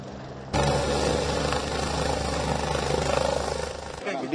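A helicopter takes off from Belagavi. Its engine and rotor drone starts abruptly and holds steady and loud, with a throbbing low hum, before cutting out near the end.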